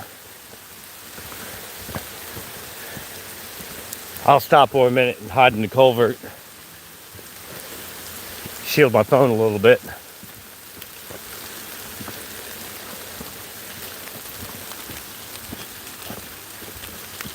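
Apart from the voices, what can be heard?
heavy rain falling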